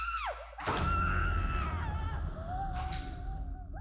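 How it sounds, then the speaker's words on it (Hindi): A woman screams in a tense domestic scene from a crime drama, a high wavering cry that rises and falls over a loud, dense background, fading then returning briefly near the end. "ये भी ना बहुत चिल्लाने लगी है"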